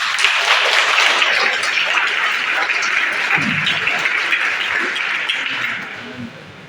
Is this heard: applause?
yes